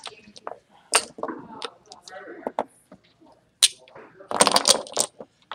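Dice being handled and dropped for a backgammon match, giving sharp clattering rattles in short bursts, loudest near the end, with nearby talk in between.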